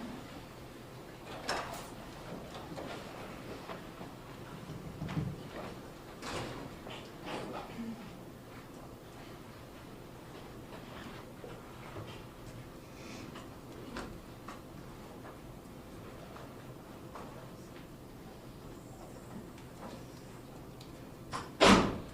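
A courtroom door opens and closes during a trial hearing, with scattered soft clicks and thuds throughout and a louder bang at the very end, amid faint room noise and distant murmuring.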